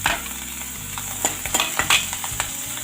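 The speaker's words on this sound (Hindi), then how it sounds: "अब मैं इसमें ऐड करूँगी अदरक कटा हुआ, और इसी के साथ कटी हुई हरी मिर्च।" Chopped ginger and green chilli sizzle loudly in hot oil in a pan, with a spoon stirring and clinking against the metal every so often, close and without speech.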